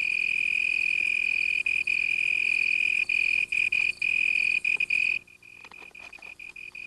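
Cricket chirping from a leaf that acts as its soundboard on an African night: a loud, piercing, continuous trill with a few brief breaks, stopping abruptly near the end and leaving faint night ambience.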